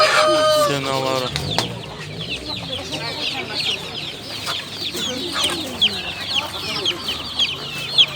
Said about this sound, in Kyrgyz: Бройлердин балапандары